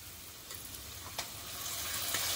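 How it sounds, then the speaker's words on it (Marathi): Chopped tomatoes going into sizzling ginger-garlic paste in a pan, a soft, fairly quiet frying hiss with a few light clicks of stirring, growing slightly louder toward the end. "आता टोमॅटो घालूया आपण"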